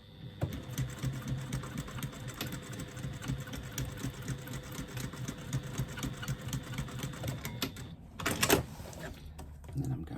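A sewing machine runs steadily for about eight seconds stitching a fabric lining seam, a close, even rapid rattle, then stops with a brief clack and handling noise.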